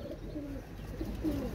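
Pigeons, including Pakistani breeds, coo in a loft with a few soft, low, rolling coos close by and a faint background hum.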